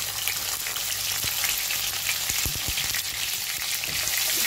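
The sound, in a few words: garlic frying in a pan with potatoes and carrots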